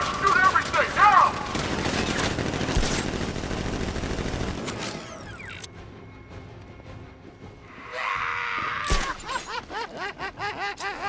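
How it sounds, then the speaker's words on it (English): Bursts of guard gunfire rattle through a Batman: Arkham Knight street fight, dense volleys up front, a lull, then sharper clustered shots near the end, with voices talking in between. "Guard! Open fire! Shoot everything, now!"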